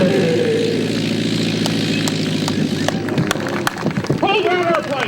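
A propeller airplane engine drones loudly and steadily nearby during a landing at a Flying Circus airshow, its pitch shifting toward the end, while people shout over it.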